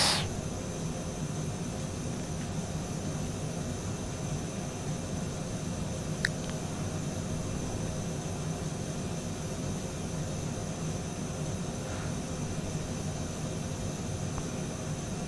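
A Bede BD-5J small jet in Microsoft Flight Simulator 2020 hums along in flight, a steady, even jet whine and airflow hiss that never changes, heard alone.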